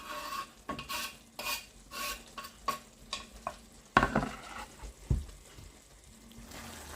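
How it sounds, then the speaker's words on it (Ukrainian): Zucchini caviar with fresh herbs stirred in a pan, a spoon scraping and knocking in a steady rhythm over a soft sizzle, close and clear with no talk. "Все гарно змішуємо, ось такого кольору вона гарного"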